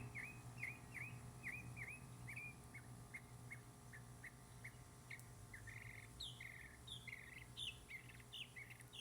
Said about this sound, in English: We can listen to the bird.